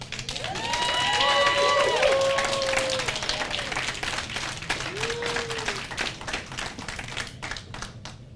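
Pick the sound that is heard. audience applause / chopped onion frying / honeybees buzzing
audience applause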